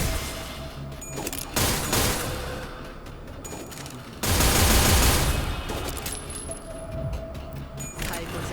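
Rapid bursts of gunfire crackle through a fight in the video game Limbus Company, with loud volleys near the start and a heavier blast midway, mixed with metallic clinks and game effects.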